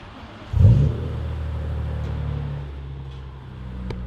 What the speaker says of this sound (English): Listen to that startup,